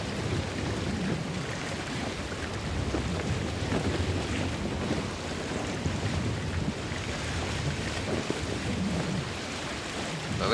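Rain falling on Lake Biwa in Assassin's Creed Shadows while a boat is rowed, a dense, steady wash of patter mixed with wind and lapping water, constant and fairly loud with no voice over it.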